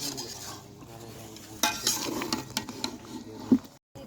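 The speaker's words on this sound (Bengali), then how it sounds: "এখন ভালো করে নেড়ে দিতে হবে" Chicken roast masala with ground nut paste being stirred in a pot, soft frying sizzle under scattered scrapes and clinks of a spoon against the metal, close and fairly quiet, with no talk.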